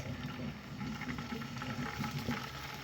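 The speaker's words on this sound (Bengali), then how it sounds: "এখন আমি একটা একটা করে মাছ ভেজে নিব" Small mola fish sizzle steadily in hot oil in a pan, a soft continuous bubbling hiss with faint crackles, fairly quiet and close with no talking.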